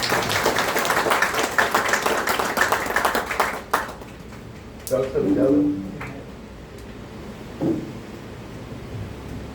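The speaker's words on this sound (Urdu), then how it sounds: "میں آپ سے گزارش کروں گا ان کے لیے ایک زوردار تالیاں بجائیں." An audience at an Urdu poetry gathering bursts into brisk applause that fades out after a few seconds, followed by quieter murmurs and a voice speaking.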